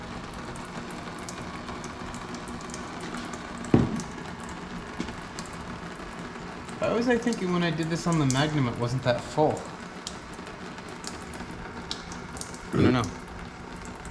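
Transmission fluid drains from a Chrysler 300 in a steady, rain-like patter that continues throughout, close and fairly soft, while people talk over it in the middle.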